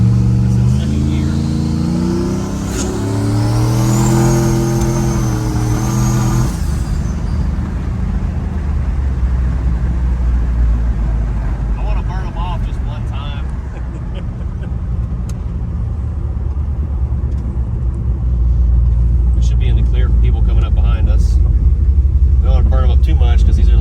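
Big single-turbo 750hp Dodge Dakota on drag radials pulling hard in second gear, a loud continuous engine roar rising under the driver's voice, with talk over the first few seconds.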